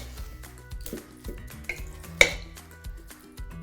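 A spoon stirs curried squash latke batter with salt in a bowl, giving wet, irregular mixing squelches and a sharp clink against the side, close and fairly quiet.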